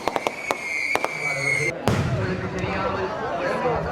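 Fireworks burst over an outdoor crowd in Jaffna: several sharp cracking bangs early on, then a loud boom followed by continuous crackling and rumbling, with people chattering throughout.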